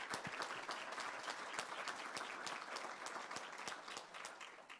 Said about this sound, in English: please join me in one final round of applause for all of our winners